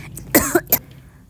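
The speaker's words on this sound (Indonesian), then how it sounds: "Nggak tahu kenapa pada saat pengisian suara aku batuk-batukan nih." A woman coughs while cooking in a home kitchen: a quick burst of two or three sharp, close coughs with a slight throat-clearing quality, then a quiet trail-off.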